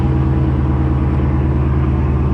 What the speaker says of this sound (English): Alright, so I just cranked the car up